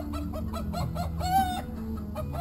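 Chickens clucking in short repeated bursts nearby, with one louder squawk, over a low steady background hum.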